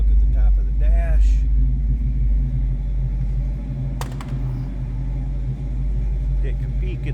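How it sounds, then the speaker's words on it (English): A 1965 Ford Mustang coupe with a 289 V8 settles into a steady low idle, a deep continuous rumble that runs under a voice throughout. "we'll get it down to low idle"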